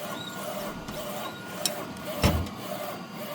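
A DTF film printer built for smaller print volumes runs with a steady mechanical whir and rasping rub, punctuated by a couple of sharp clicks near the middle.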